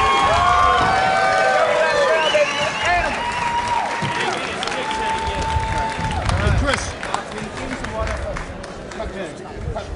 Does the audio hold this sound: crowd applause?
yes